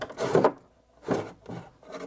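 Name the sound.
wooden chest drawer sliding and binding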